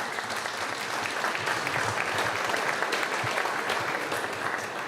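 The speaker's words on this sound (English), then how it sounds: "Let's give them a round of applause" Sustained audience applause at a sailing regatta press conference in Sardinia, dense steady clapping throughout at an even level, with a faint murmur of voices beneath.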